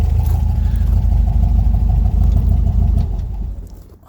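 A VW Volksrod engine with Weber IDF carburetors idles with a deep, steady, pulsing rumble close by, loud and even before fading out over the last second.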